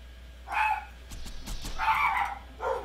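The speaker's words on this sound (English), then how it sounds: "sorry about the dogs barking" Dogs bark indoors in a few short bursts, with a burst near the start, a cluster in the middle and another toward the end, fairly close and alone with no talk.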